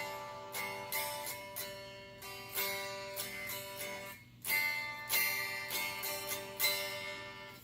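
A solid-body electric guitar strummed with no amplifier, giving thin, quiet string chords in a steady series of strums with short gaps, heard alone and close.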